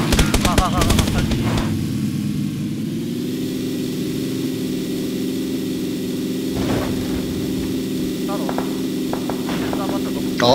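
Gunfire in the battle royale game PlayerUnknown's Battlegrounds: a dense automatic burst opens the clip, then a steady engine hum runs throughout, with a few sharper shots near the middle and end.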